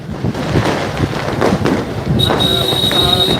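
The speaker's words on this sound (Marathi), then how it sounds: "येवल्याच्या रस्त्यांवरती फटाके फटाके खूप फुटतात" Firecrackers burst on a town street during a kite festival in Yeola, loud crackling pops rising over a constant roar of traffic and wind, with a steady high whistle-like tone entering near the end.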